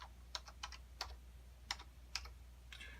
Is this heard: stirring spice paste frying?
no